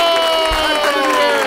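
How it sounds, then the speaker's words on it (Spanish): Studio audience at the close of a Spanish comedy talk show cheers and applauds, a dense, steady wash of crowd noise with whoops rising over it, loud and continuous throughout. "Un aplauso para Ignatius y Keke."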